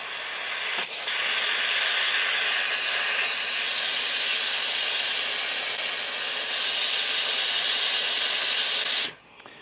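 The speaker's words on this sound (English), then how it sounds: "So, if you want to steam it," The steam wand of a Maxim's La Seine X espresso machine hisses loudly and steadily at close range for about nine seconds, then cuts off abruptly, with no voices.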